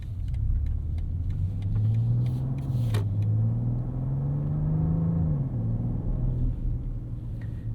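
A 2024 BMW 750e in sport mode drives along with a steady, low, close engine and road rumble inside the cabin. The pitch rises and dips gently as it takes corners.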